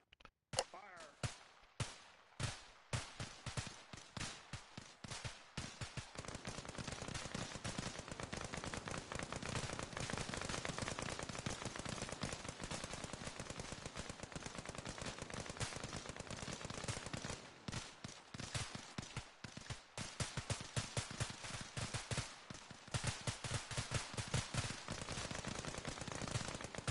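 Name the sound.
rifles firing on a shooting range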